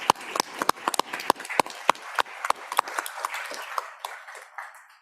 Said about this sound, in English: Let's give Director Shannon a round of applause